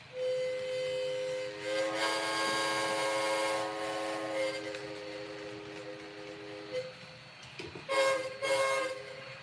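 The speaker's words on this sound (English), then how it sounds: "Hancock air whistle." A Hancock air whistle blows a long sustained chord-like tone, stops briefly, then sounds again in a couple of shorter blasts.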